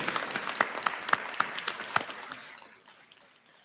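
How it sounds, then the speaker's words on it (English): Audience applause at a licensed practical nursing pinning ceremony, with a few sharp close claps standing out from the crowd before the clapping thins and fades away over the last second or so. "let's give them a good round of applause"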